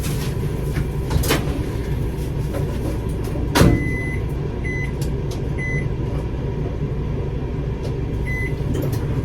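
A microwave oven hums steadily throughout, with a few short high beeps repeating toward the end and a sharp clunk near the middle.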